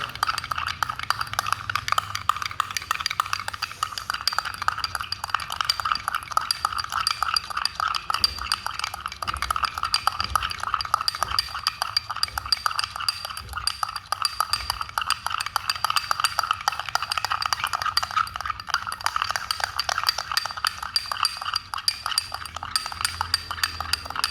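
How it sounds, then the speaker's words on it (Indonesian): Dalgona coffee mixture whisked by hand in a bowl, a steady fast clinking and scraping of utensil against the bowl that runs continuously without talk. "Terus diaduk-aduk. Ini udah berjalan 1 menit, ini sudah mulai mengental"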